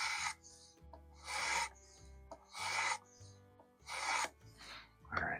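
A D2 steel knife blade is drawn across the abrasive of a Work Sharp Precision Adjust Elite sharpener in four slow, rhythmic rasping strokes with short pauses between, close and clear with no talking.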